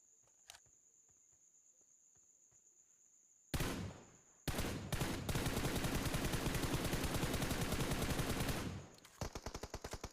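Gunfire in the BGMI battle royale video game: after a quiet stretch with faint ambience, a loud sharp shot hits, then a long dense burst of automatic fire, ending in a few spaced single shots.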